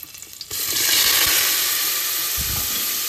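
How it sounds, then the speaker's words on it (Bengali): Spices tempering in hot oil in a pan on a gas stove hiss into a loud, steady sizzle after a short quiet start, close and continuous with a few soft clinks underneath. "গ্যাস ধরি, ফোড়ন দিয়ে দিয়েছি"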